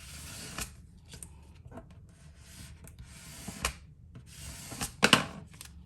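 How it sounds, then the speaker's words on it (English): Scraping and rubbing of a burnishing tool pressing craft vinyl onto transfer tape, irregular short strokes close up, with a sharper crisp burst near the end. "And then I'm going to burnish it."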